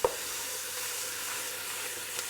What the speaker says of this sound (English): And the hot roux cooks those vegetables.